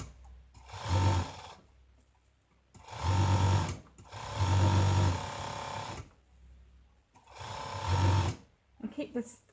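An overlocker sews the inside leg seam of a onesie in four separate bursts of close, loud motor whirring and needle chatter, each a second or two long, with a voice talking through the runs.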